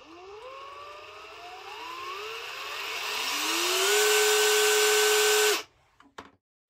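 A Metabo SB 18 LTX BL cordless brushless hammer drill motor winds up in rising steps to a loud, steady high whine, then cuts off abruptly, followed by a few faint clicks.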